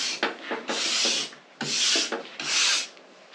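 A stiff ski brush is pushed along a ski base in firm strokes in the direction of travel. Three or four long, close, raspy scrubbing passes come at a steady rhythm, with no voice.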